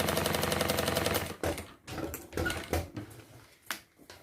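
A sewing machine stitching along the bottom of a retro fabric backpack, with a rapid continuous run of stitches for about a second, then short stop-start bursts and handling clicks; no talking.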